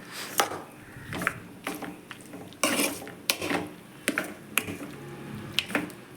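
Chitranna rice being mixed in a pan, giving a close series of sharp scrapes and clinks from the spoon against the metal at irregular intervals, with no talk.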